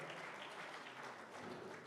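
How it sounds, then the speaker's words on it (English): Faint audience applause at a community event, a dense continuous patter of many hands clapping, heard from a distance at low level throughout. "you have to give him a big round of applause"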